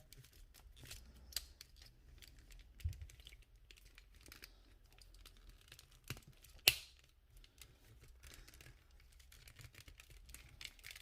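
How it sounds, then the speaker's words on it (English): Retro toy plastic parts being handled and clipped together, a series of faint small clicks and rattles with one sharper snap in the middle, close and quiet. "That should click into place there, like that."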